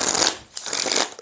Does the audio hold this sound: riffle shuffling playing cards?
yes